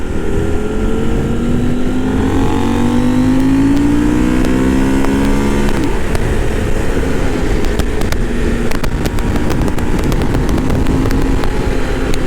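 A 2023 KTM 890 Adventure motorcycle pulls hard in third gear, its engine note rising steadily and loud before leveling off into a sustained roar mixed with heavy wind rush.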